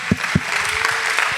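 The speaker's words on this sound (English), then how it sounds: "give a round of applause" Audience applause at a youth student testimony event: a steady wash of clapping fills the short stretch, with a couple of soft thumps near the start.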